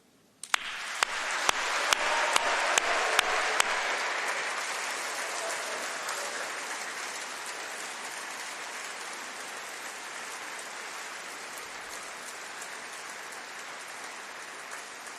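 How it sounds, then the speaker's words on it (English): Loud, sustained applause with cheering fills a graduation ceremony hall for the College of Engineering and Physical Sciences, starting abruptly after a few sharp claps, peaking early, then tapering gradually while staying dense throughout. "Let's have a really big round of applause, plenty of cheering for all those that supported you"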